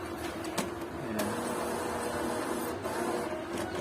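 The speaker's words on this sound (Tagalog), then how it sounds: "cleaning the printer head, please wait" An Epson L1455 printer runs a print head cleaning cycle, a steady mechanical whir with a few sharp clicks and taps, fairly quiet and with no talk.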